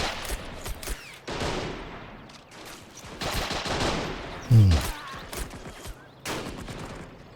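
Rapid bursts of gunfire from an FM2429 gun in a World War II strategy game mod, crackling repeatedly over a busy battle mix, with a louder low thump near the middle.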